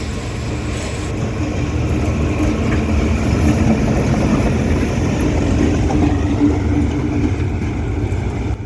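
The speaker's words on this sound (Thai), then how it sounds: "เดี๋ยวเตรียมฟังเสียงเร่งเครื่องแบบโหดๆกันนะครับ" A diesel locomotive engine at Lopburi station, Thailand, roars loudly and close by, a heavy rumbling drone that swells slightly and holds steady throughout.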